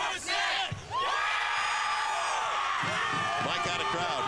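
A college football stadium crowd in Lawrence, Kansas roars in a sustained wash of cheering and whooping, with a brief dip early on and a voice over the din.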